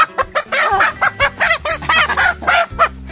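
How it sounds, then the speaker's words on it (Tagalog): A flock of backyard chickens in a rural Philippine yard clucks loudly and close by, with quick overlapping bursts of squawks and cackles. "ang dami manok dito sa amin"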